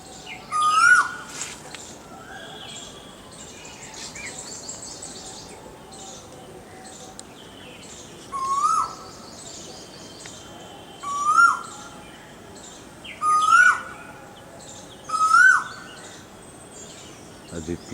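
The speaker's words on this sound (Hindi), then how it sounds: "यह कोई कोयल दूर पर बोल रही, सामने आ जाए।" An Asian koel calls in a garden in Raebareli, repeating a clear rising whistled note about five times at intervals of a few seconds, fairly faint and distant, over a quiet outdoor background.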